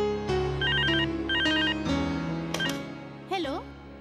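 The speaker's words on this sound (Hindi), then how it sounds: "हाँ है ना भाईजान, माधव अंकल का फोन" A telephone rings in a home with a repeated electronic trill in short bursts, loud and close. Voices talk over it and other household sounds mix in.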